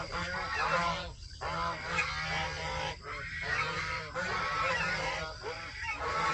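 Dense, overlapping honking from a crowd of geese kept with turkeys on a bird ranch, continuous and fairly loud, with a steady low hum underneath.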